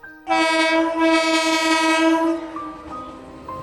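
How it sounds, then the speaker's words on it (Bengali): A train bound for Kolkata sounds a loud, sustained horn blast lasting about two seconds, then a softer tail of the tone lingers with faint rail rumble beneath; no voices are heard. "পরের দিন সায়ন্তন ট্রেনে চেপে পড়ল কলকাতার উদ্দেশ্যে।"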